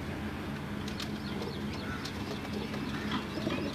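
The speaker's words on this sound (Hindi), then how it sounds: "ये जी सलारे टैडी कबूतर हैं मेरे।" Salare Teddy pigeons kept as flying birds, soft cooing and faint wing flutters over a constant low hum of background noise, distant and quiet with no talk.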